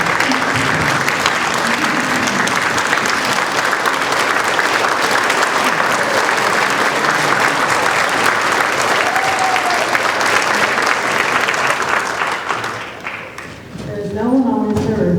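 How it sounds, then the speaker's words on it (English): A standing ovation at a high school hall of honor induction ceremony: dense, sustained applause and cheering from a large audience on its feet, steady and loud for about twelve seconds before briefly dipping, with voices rising near the end. "And I'd like one more round of applause with people on their feet for Al Carter."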